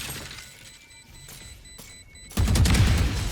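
Gunfire in the video game Valorant: a loud burst of several rapid shots at the end, after a quieter stretch of game ambience and faint tones.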